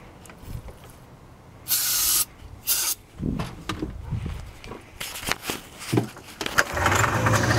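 Starting fluid sprayed into the engine of a 1978 Arctic Cat Panther 5000 snowmobile, with two short, loud aerosol bursts followed by handling noises, rustling and knocks close by.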